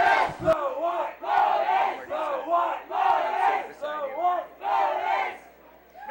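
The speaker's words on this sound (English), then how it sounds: "Once again, the Toronto cheering crowd has taken over." Crowd at a women's Ultimate frisbee final in Toronto chants in loud rhythmic unison, a series of close, repeated shouted phrases with short pauses between them.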